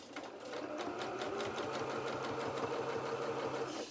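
Sewing machine stitching felt fabric for a doll's duffle coat, a steady fast mechanical whir with rapid needle clatter, close and moderately quiet, running alone.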